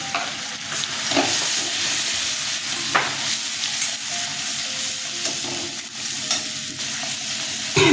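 Masala of turmeric, chili, cumin and coriander powders frying in a pan, a steady close sizzle broken by repeated scrapes of stirring, with no voices.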